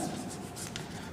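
Chalk or marker scratching on a board as a linear equation is written out, a soft, short, faint scrape with a few quick strokes.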